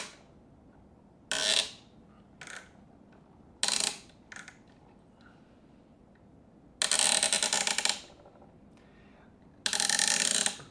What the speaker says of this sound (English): Bolt tightening ASMR.